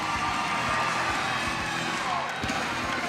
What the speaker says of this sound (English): This capacity crowd is going nuts here, ladies and gentlemen, for Scott Marler.